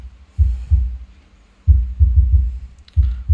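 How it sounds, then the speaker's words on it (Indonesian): Deep 90 Hz bass from a subwoofer set through a dbx 234 XL crossover in a 3-way stereo PA rig, heard as loud, close, booming thumps in an irregular rhythm with short gaps between bursts, no voices. "Kita setting subwoofer, kita buat umpamanya buat 90 Hz seperti ini ya."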